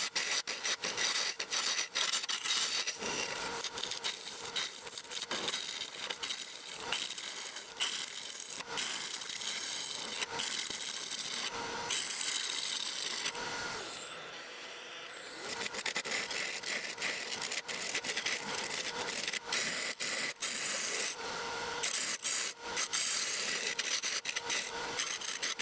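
A wood lathe turning a manzanita burl and epoxy vase with light, fine finishing cuts, giving a continuous close rasping scrape that drops away briefly midway before resuming.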